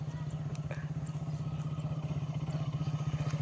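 A motorcycle engine near the Ranga Nadi bridge, running close and steady with a rapid, even thudding pulse throughout and no voices.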